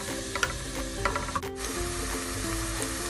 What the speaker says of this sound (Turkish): burada soğanlarımı kavuracağım